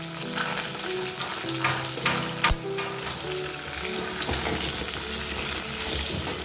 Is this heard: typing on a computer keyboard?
no